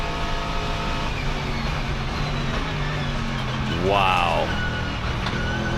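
A Mercedes GT3 race car's engine drones steadily onboard at speed around the Nürburgring, with a rising gear-change whine near the end and a person reacting with an exclamation over it.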